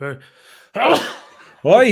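A single sharp sneeze bursts out loudly in a studio during a soccer talk show, with a voice just before it and another voice starting right after.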